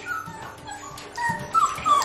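Rescue puppies whimper with thin, high-pitched whines over soft shuffling during a bath, and a louder rising whine near the end.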